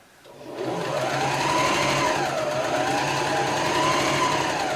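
A sewing machine restitches a quilt seam, starting up and then running in a steady, close, high-pitched mechanical whir with even rhythm and no talking.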